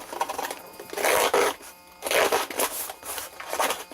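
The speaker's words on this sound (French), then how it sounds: "Alors je vais ouvrir la boîte." A kitchen knife slicing open a cheap cardboard box, quick ripping cuts in short bursts with brief pauses between, close and crisp.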